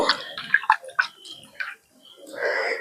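A few soft splashes and drips, then a brief steady gush of water pouring into a bowl of tamarind pulp near the end.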